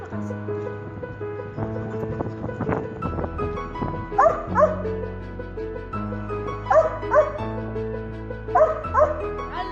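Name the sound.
dog barking during training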